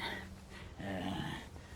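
A dog growls and grumbles in low, close bursts, with a brief whimpering note in the middle, in a quiet indoor setting with no talking.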